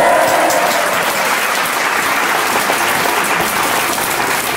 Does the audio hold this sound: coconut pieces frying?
no